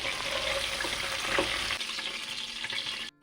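Chicken pieces frying in hot oil give a steady, close, dense sizzle that runs on and then cuts off abruptly near the end, with no voices.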